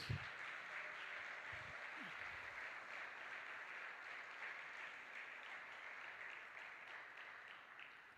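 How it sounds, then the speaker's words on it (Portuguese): A church congregation claps loudly and continuously in worship, dense sustained applause filling the room, with a few faint voices beneath it near the start. "Aplauda bem forte porque é para Jesus."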